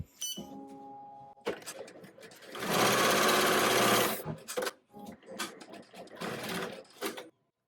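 A single-needle or multi-needle embroidery machine stitches an in-the-hoop card wallet pocket, its needle chattering in fast close bursts with a long sustained run in the middle and short stops and starts around it.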